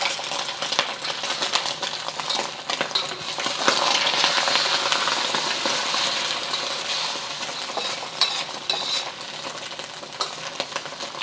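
Eggs frying in about two tablespoons of hot corn oil in a wok or frying pan for Hong Kong-style beef fried rice, a steady close crackling sizzle with scattered spatters, no voices.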